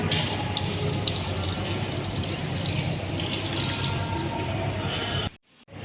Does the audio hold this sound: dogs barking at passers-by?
no